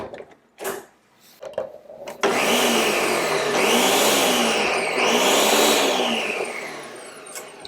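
A blender pulses through vegetables in a kitchen: a few short bursts at first, then a longer loud whirring run that rises and falls as the contents churn.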